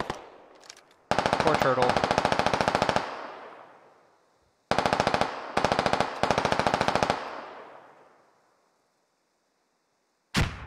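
Rapid automatic gunfire in the tactical military shooter Squad, several loud sustained bursts separated by short pauses, with a distant echoing tail after each and a brief spoken remark.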